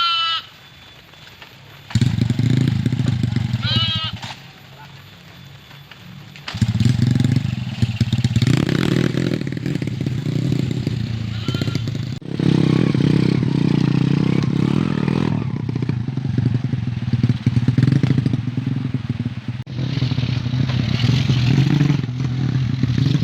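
A motorcycle taxi rides through rain on a village road. After a quieter opening, its engine drones loudly and fairly steadily, with the pitch and level shifting as it moves.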